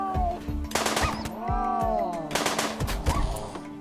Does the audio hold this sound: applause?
no